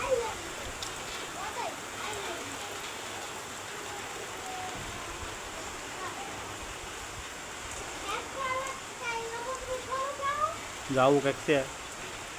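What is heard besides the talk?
rain falling in a village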